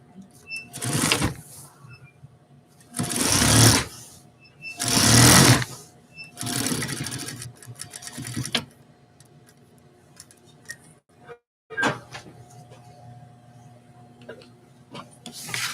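A sewing machine stitches binding tape onto a zipper in several loud bursts of rapid needle rattling, separated by pauses with quieter ticks and handling noises.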